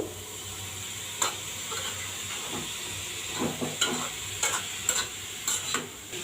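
Carrot halwa stirred in a pan, a spoon scraping in irregular strokes over a soft steady sizzle, close and moderately quiet with no talking.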